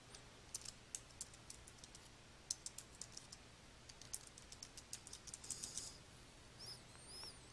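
Keys on a computer keyboard are typed in a quick irregular run of light clicks, heard close and alone against a quiet background.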